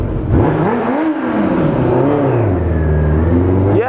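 A Suzuki GSX 750 motorbike engine revs hard and loud up close, its pitch climbing and falling in a sustained throaty roar, then rising again at the end.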